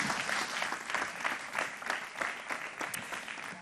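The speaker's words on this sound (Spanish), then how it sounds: "Un aplauso, por favor." A conference audience at the VIII Congreso ICTES gives a full, even round of applause after a speaker's talk, the many hands clapping steadily and moderately loud from start to finish.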